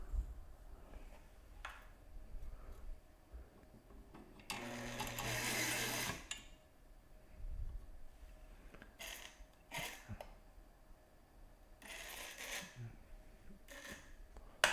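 Craigslist-traded home sewing machine stitching fabric in short runs, a loud steady whirring burst near the middle and several briefer runs later, with quiet pauses between.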